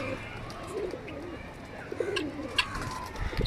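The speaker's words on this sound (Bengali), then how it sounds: "এই যে এখানে সব কবুতর দেখা যাইতেছে অনেক সুন্দর অনেক সুন্দর কোয়ালিটির কবুতর ভাই অনেক সুন্দর নেট দিয়ে রাখছে" Pigeons, including colored fancy breeds, coo in a low rumbling murmur inside a netted enclosure, with a few faint chirps on top and soft background noise.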